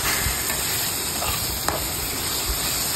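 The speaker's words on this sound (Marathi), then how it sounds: "पूर्ण आपण हा फ्राय करून घ्यायचा आहे कांदा पटपट" Onion frying in a pan for capsicum sabji, a steady close hissing sizzle that runs the whole time with a faint stir or two.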